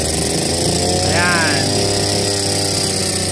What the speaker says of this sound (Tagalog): Tingnan nyo po, grass cutter po siya nakakabit. Paandar nga natin, pakita natin ng konti.